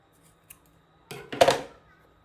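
Scissors snip through crochet yarn at the end of a finished row, a quick close cut followed by a louder crisp snap, heard alone in a quiet room.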